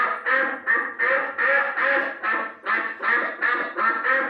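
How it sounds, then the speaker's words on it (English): Duck quacking in a steady run of about ten loud, close quacks, evenly spaced with no voices over them. "Duck."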